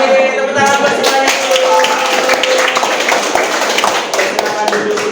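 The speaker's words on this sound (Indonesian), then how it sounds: "tepuk tangan buat semuanya" A classroom of students claps together loudly and close up, a dense burst of hand claps lasting a few seconds before tapering off.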